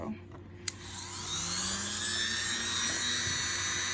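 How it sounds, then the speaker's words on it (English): A rotary sanding tool spins up and grinds down a bump on a ring held on a mandrel, a steady high whine with a faint scraping edge that starts after a short click and runs on, close and continuous. "bump right here, so I'm going to sand that down"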